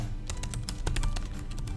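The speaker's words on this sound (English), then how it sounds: "And you're going to just write a comment in." Rapid, irregular clicking of keys on a computer keyboard as a short comment is typed, close and fairly quiet, with no talking.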